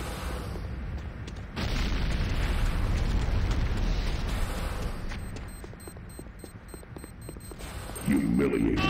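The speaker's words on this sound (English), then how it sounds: "Tiberium refinery destroyed." A Tiberium refinery is destroyed in the Command & Conquer Renegade video game: a sudden heavy explosive boom hits, then a long rumbling roar of blasts and debris with voices over it.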